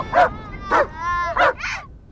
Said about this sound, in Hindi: ये कुत्ता इतना खतरनाक है, अब तक 21 लोगों को काटकर मार चुका है।